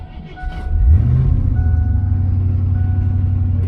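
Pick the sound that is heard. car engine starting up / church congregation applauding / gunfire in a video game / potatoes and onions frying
car engine starting up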